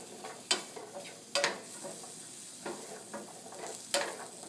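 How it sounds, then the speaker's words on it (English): A spoon stirs potatoes in a pan, giving several sharp scraping strokes at irregular intervals over a soft, quiet sizzle, heard up close. "Give our potatoes a quick stir."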